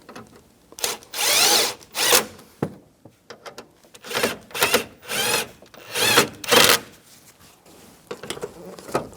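A power drill drives screws into the ambient light sensor cover of a 1999-2006 Chevrolet Silverado 1500, giving several loud, whirring bursts of a few seconds each, separated by short pauses, close to the microphone.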